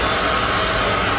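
A hand dryer in the washroom of a Vande Bharat Express train roars with a steady, loud broadband whoosh of blown air, continuous and unbroken throughout.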